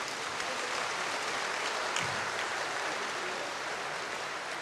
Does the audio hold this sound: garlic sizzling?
no